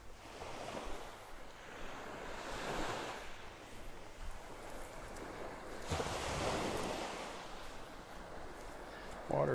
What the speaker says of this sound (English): The tide's coming in.